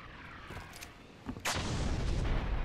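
Grenades exploding in Destiny 2, a sharp blast followed by a sustained loud roaring rumble of explosions and gunfire-like bursts.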